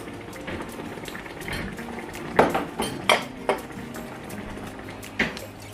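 Garlic and ginger fry in a pan for spaghetti bolognese sauce, giving a steady sizzle with several sharp clinks of a utensil against the pan at close range.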